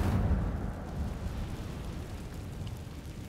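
An Incendio fire spell cast in Hogwarts Legacy: a rumbling, roaring burst of flame that flares up loudly at the start, then settles into a steady crackling, rushing hiss that carries on to the end.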